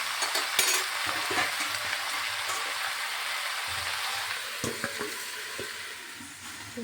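Potato and cauliflower pieces sizzle in a wok as they are stirred, with a continuous close frying crackle broken by scraping knocks of the spoon.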